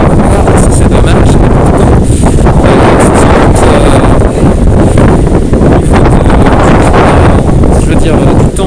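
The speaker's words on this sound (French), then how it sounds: "le fait d'être éloigné de la mer ne protège pas du vent" Strong wind gusting through a city street in St Malo, set back from the sea, buffeting the microphone with loud, constant roaring rumble throughout.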